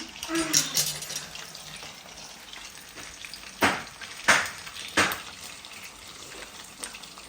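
Chicken frying in a large kadhai in a home kitchen, a steady soft sizzle with a few louder crackling bursts partway through, heard close up with faint voices nearby.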